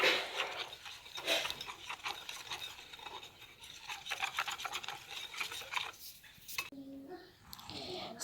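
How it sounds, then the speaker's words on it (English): Continuous scraping and rasping of a spoon working flour into a thick dough batter for dumplings in a bowl, close and busy with uneven strokes and short pauses near the end. "So I'm going to just mix this and see if I need to add more flour."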